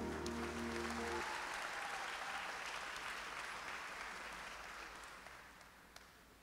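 An audience applauds a church music ministry at a concert, with dense continuous clapping that slowly fades, heard over the tail end of a held musical chord.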